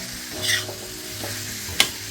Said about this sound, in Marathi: आता मस्त चालली कालवा तव्यावरती